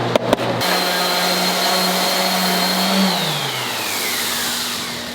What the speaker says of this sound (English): We have now sanded the entire floor